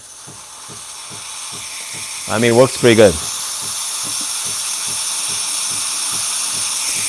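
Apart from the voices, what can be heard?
Breville Barista Pro espresso machine steam wand hissing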